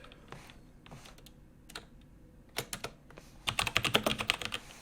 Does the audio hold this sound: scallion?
no